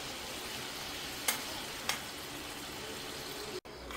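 Cumin and turmeric fry in hot oil for an Andhra-style brinjal chutney, a soft continuous sizzle with two brief scraping stirs and a sudden cut near the end.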